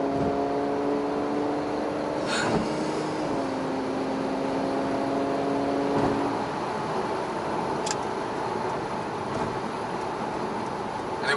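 The engine of a car under way hums steadily from inside the cabin, with a rising gear whine that shifts and climbs again under constant road noise.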